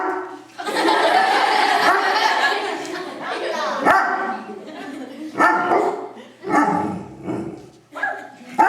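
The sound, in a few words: search dog Quest barking on command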